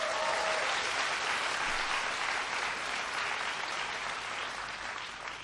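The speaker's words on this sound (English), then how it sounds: "Give, too, a big round of applause for..." An audience at a youth event in Ho Chi Minh City applauds steadily, a dense, even wash of clapping that holds strong throughout and eases slightly at the end.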